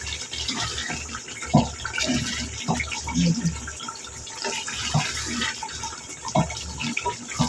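Water is poured from a glass into soaked rice with potatoes and peas for a matar aloo pulao, splashing and gurgling in several bursts, with someone talking over it in a kitchen.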